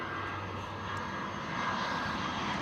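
An EasyJet Airbus A319 at Amsterdam Schiphol airport gives a steady, broad engine roar, moderately distant and unbroken, with no talking.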